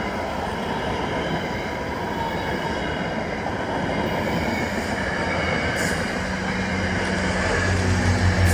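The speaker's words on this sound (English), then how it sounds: "My last VRE train followed next," VRE commuter train heading north passes on rails near Long Bridge and Potomac Yard in Washington DC, a steady rumble of wheels with faint squeal and clatter, growing slightly louder toward the end, no voices.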